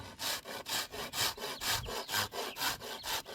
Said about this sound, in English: try to resist the urge to use the rasp fast, and more of a back and forth than a side to side